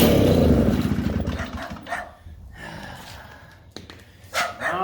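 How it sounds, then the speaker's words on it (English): A neighbor's dog barks a few times near a 1947 six-foot Mall chainsaw being started, short sharp barks with faint background noise between them and little talk. "Neighbor dog's barking."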